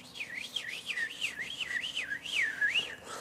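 A person whistles a rapid warbling trill, rising and falling about a dozen times in imitation of a bird, clear and close.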